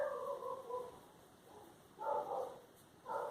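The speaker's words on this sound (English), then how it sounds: "there's my neighbor's dogs if you can hear them." Dogs bark and yip from next door, coming in three short bursts with pauses between them. They sound moderately distant and fairly faint against quiet room tone.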